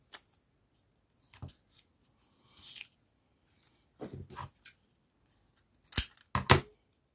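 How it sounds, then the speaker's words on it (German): Scissors cut a sticky craft sheet into pieces in a quiet room, making several separate crisp snips spread out at irregular intervals, close and fairly soft, with no talking. "Und dann kann ich halt jetzt ganz entspannt mir das in Stücke schneiden, ohne dass meine Schere mir verklebt."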